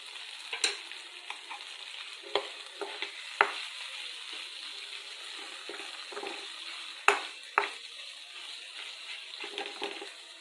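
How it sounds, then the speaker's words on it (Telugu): A vegetable curry frying in a pan with red chilli powder, giving a continuous close sizzle broken by regular scraping and tapping stirs of a spoon against the pan. "దాదాపుగా ఫ్రై అయినట్టేనండి, కానీ మరి కాసేపు 2-3 నిమిషాల పాటు ఇలాగే ఉంచేద్దామండి."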